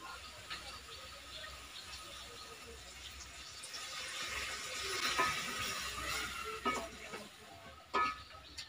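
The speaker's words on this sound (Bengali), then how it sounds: "আমি আরো একটু জল দিয়ে দেব।" Water poured into a pan of ridge gourd and spices, giving a soft sizzle and bubbling with stirring scrapes, faint and steady with a few brief clatters near the end.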